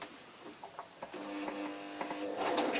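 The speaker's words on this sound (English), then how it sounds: "ask the machine to sew." A sewing machine fitted with a hemming foot starts sewing fabric, with a few light clicks before a soft mechanical whir and hum rises and builds toward the end.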